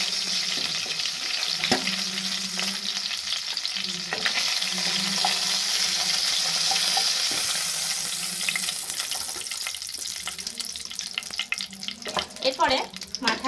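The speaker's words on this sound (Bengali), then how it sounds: "এরপরে মাথাগুলো রয়েছে সেগুলো আমি ভেজে নিচ্ছি।" Rui fish heads fry in hot oil with a steady, close sizzle that runs throughout, broken by occasional stirring scrapes and clatter toward the end.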